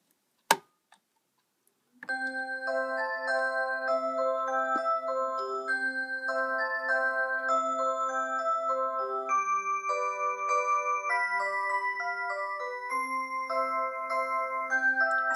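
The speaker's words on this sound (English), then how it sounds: "clock playing Silent Night." A Rhythm mantel clock plays the Silent Night melody as bright chiming tones over a sustained low note, preceded by a single sharp click and a short pause before the tune starts.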